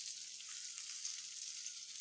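Sardines fry in hot oil with a faint, steady, airy sizzle that holds evenly throughout the clip, with no voices.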